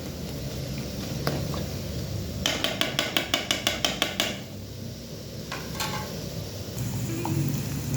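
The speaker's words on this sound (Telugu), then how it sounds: "ఇట్లా తిప్పుతుంటే ఆ గంట సౌండ్ అనేది వీడియోలో బాగుంటుంది." Cucumber and green chilli chutney pounded and ground in a traditional stone mortar, giving a close run of about a dozen evenly spaced ringing knocks, then a few scattered clacks over a faint background, with no talking.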